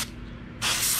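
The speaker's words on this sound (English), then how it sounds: "Anywhere that there's a bearing, you want to spray it out, okay?" Aerosol electric motor cleaner hisses out of the can onto the bearings of an RC truck: a faint hiss at first, then a loud, close, steady spray burst for the final stretch.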